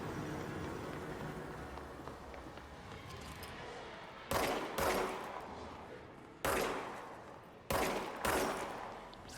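Gunfire in the video game Control comes as a few sharp, loud bursts spaced several seconds apart over a steady rumbling background of game ambience.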